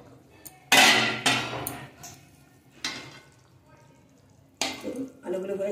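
Metal lid set onto a cooking pot of potatoes simmering in water for a Bengali fish curry, several loud clanking knocks and scrapes, with quieter pauses between and a softer clatter near the end.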